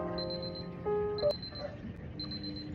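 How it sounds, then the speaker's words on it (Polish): Digital alarm clock in the puzzle game Superliminal ringing in short repeated high beeping bursts, stopping and starting again, with a steady tonal hum beneath and no talk. "Zaraz znowu zadzwoni budzik."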